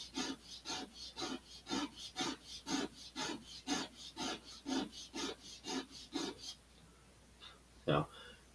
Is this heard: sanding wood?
yes